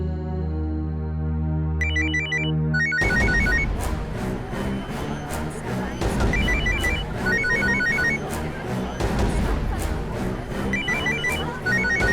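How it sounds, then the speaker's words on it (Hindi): A mobile phone rings with a repeating electronic ringtone that plays in rhythmic bursts over a loud dramatic music bed in a courtroom drama scene, continuing for several seconds. "आप उठाइए अपना मोबाइल,"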